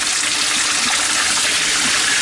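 Cold tap water runs steadily at a campground in the Great Smoky Mountains, a loud, close, continuous gush with no talking over it.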